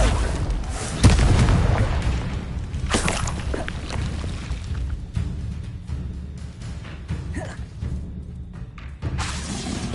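Repeated blasting-spell explosions from the Confringo curse in a Hogwarts wizarding video game, with loud booming bursts and crackling debris in a busy, continuous battle mix, one heavy blast standing out near the start.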